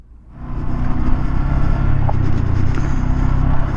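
A 2017 Honda Grom 125 motorcycle engine fires up and settles into a loud, close, rumbling idle with a low throbbing tone, no voices present.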